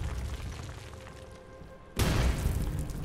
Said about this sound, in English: Sounds like this old thing's falling apart.